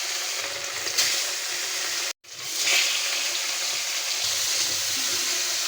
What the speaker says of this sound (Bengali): তো আমি এক এক করে মাছগুলো আমি ভাজিয়ে দিই।